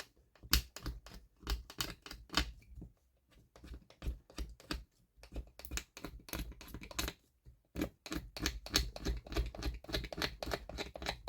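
A Cricut vinyl decal pressed and rubbed onto a kitchen jar makes rapid, close, crisp clicking and scraping strokes in quick bursts, with brief pauses between passes and no talking.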